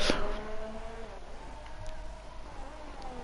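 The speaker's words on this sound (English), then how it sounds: "we had a few moments with the beautiful Honda engine. That sound though through the corners." A Honda-engined race car in a racing game at the Australian Grand Prix, its engine whining steadily through the corners with shifting pitch, heard continuously at moderate volume.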